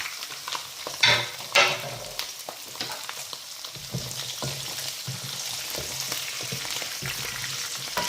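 Small onions and garlic sauté in a pan, a soft steady sizzle broken by scraping, clattering stirs, two sharper at the start.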